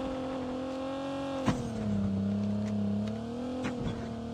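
A vehicle driven in the Call of Duty Mobile video game, its engine holding a steady droning tone that dips and rises slightly, with a couple of sharp knocks or impacts over it and no talking.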